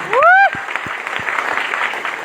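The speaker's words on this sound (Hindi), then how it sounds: "तो जोरदार तालियां हमारे गुरुदेव के लिए।" Audience applause at a network marketing gathering in Vishnugarh block. It opens with a bright rising whistle over steady, moderately loud clapping that continues to the end.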